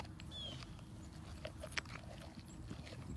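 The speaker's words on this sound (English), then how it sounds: "Can you hear that crunching? It's like potato chips the way he's going through that turkey leg bone." A dog crunches through a large turkey leg bone, producing faint, irregular brittle cracks and chewing noises close by against quiet room tone.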